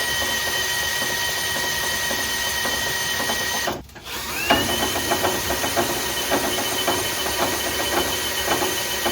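A 2018 Chevy Bolt differential spun by hand on the bench gives a steady mechanical whir with faint rattling gear mesh and a continuous hiss, briefly dipping before resuming with light clicking texture.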